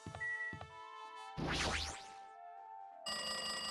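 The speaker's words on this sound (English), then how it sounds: "It's like that phone is ringing." A telephone rings in the video game Danganronpa 2, with bright electronic ring tones in short bursts near the start and a louder sustained ring at the end, separated by a clattering hit and quieter game sounds.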